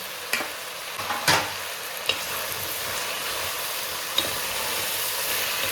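Potatoes, eggplant and tomato frying in a pan, a steady close sizzle with a few sharp stirring clacks and scrapes against the pan.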